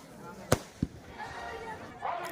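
Fireworks bursting near a Lakshmi Puja pandal: two sharp cracks in quick succession at moderate distance, followed by faint crackling and low crowd murmur.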